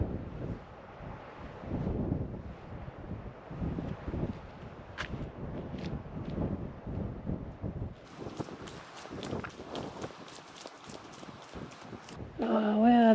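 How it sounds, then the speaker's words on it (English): Gusty wind buffets an outdoor spot at Broken Hill, rumbling loudly into the microphone in uneven surges, with scattered footsteps and a person talking at times. "That wind is rather chilly"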